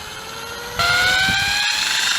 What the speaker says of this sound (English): I'm going to spin this up to a few thousand RPM